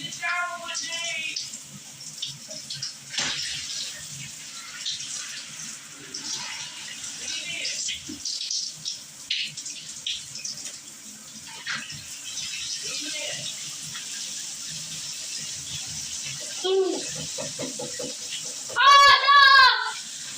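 Shower running water, a steady hiss of spray that continues throughout, with a voice and other voices talking over it and some louder squeaky sounds near the end.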